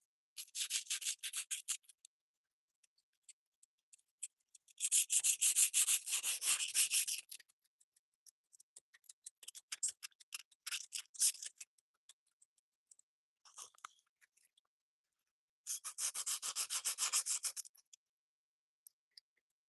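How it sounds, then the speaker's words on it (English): Sandpaper rubbed by hand over a car body panel during spot sanding, close scratchy back-and-forth strokes in several separate bursts with quiet pauses between them. "I'll let the sandpaper do all the heavy lifting."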